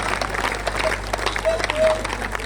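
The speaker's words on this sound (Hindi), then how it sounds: "तालियां अभी भी कम रह गई" Audience applause at a Hindi comedy poetry gathering (hasya kavi sammelan), a steady moderate patter of clapping mixed with crowd voices and chatter throughout.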